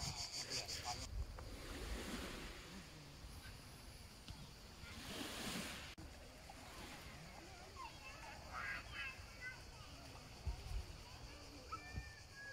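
Faint waves wash onto a secluded beach in gusty wind that buffets the microphone, with a few bursts of rushing surf and voices talking quietly over it.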